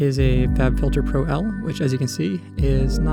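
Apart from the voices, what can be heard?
None of the usual background noises is heard.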